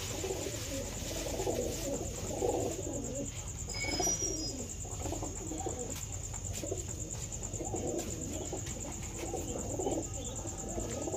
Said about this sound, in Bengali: আমাকে পায়রাগুলোকে সব ছেড়ে খেতে দিয়ে দিলাম এই ঘরে আজকে